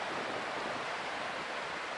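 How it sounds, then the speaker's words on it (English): Ocean waves washing toward the shore at a summer beach, heard as a steady, broadband surf roar with no distinct breaks, fairly loud and continuous throughout without any voices. "You just wait the waves just to come near the coast."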